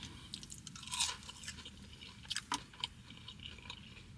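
Close, quiet chewing of crispy tempura-battered food with spicy red pepper sauce, soft crunches and bites repeating irregularly with a few sharper crackles.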